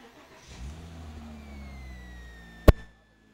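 A Porsche Boxster S 3.2-litre flat-six engine idles low, then revs into a rising, sustained growl before easing off, with one sharp click near the end.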